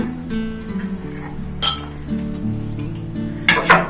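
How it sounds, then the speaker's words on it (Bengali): Green peas, a piece of ginger and green chillies go into a mixer grinder jar for a kachori filling, giving a few clinks and knocks of metal and glass in a quiet kitchen, with no talking. "মিক্সির বাটিতে ঢেলে দিলাম"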